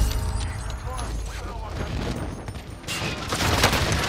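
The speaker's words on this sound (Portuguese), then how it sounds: "O ataque aéreo me pegou" An airstrike hits the player in an online shooter video game, bringing a clatter of mechanical noise and gunfire and a loud burst of blasts near the end, while voices talk.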